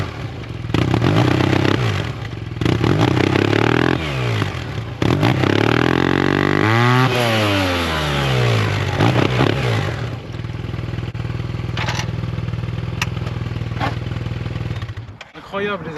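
Yamaha T-Max 560 scooter engine revving up and down close by, with rising and falling sweeps of loud engine tone, some clattering, and a steadier idle-like drone toward the end.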